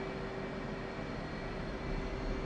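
A steady, broad engine roar hums from an aircraft taking off in a flight video game, holding an even level throughout with no talking.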